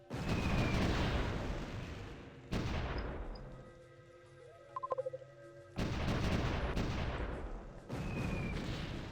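Aircraft guns firing in the strategy game Supreme Ruler Ultimate: loud sustained bursts of rumbling gunfire and booms in several long volleys, with a quieter gap in the middle holding a short rapid series of small shots.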